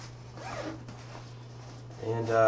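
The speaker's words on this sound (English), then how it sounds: "little zipper to keep it locked in there" A zipper on a Nemo Strato Loft 25 sleeping bag is pulled in a short, raspy stroke, close and fairly quiet against a steady low hum, ending in a louder burst of zipping.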